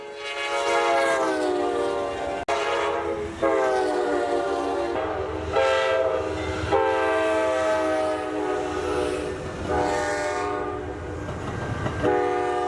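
Amtrak Coast Starlight passenger train led by locomotives 510 and 160 sounds a long, loud multi-tone horn in repeated blasts while the engines rumble steadily past, close by and alone.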